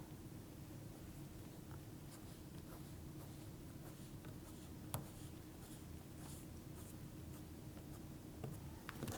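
Pen scratching a dashed line onto paper, faint short strokes with soft scrapes and light taps over a steady hiss, close and quiet.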